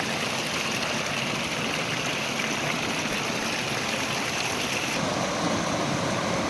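Steady broadband rush of flowing river water, continuous and fairly close, with no voices.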